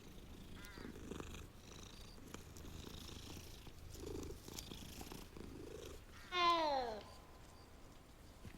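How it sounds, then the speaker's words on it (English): A cat in the Hogwarts Legacy video game purrs in a soft, continuous rumble, joined near the end by a brief, louder rising meow-like call. "Oh, cat."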